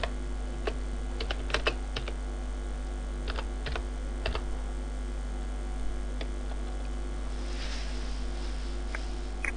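Typing on a computer keyboard to enter a school's name, with scattered soft key clicks in irregular bursts over a steady low hum, fairly quiet and close.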